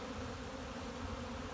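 Honey bees fly at the entrance of a hive being fed in spring, a faint, continuous buzzing hum with no pauses or other sounds.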